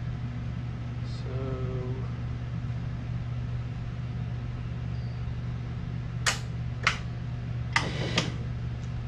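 A 1998 Wood-Mizer LT40 Super Hydraulic sawmill's motor drones at a constant low hum, with a few sharp clicks and knocks toward the end and no talk.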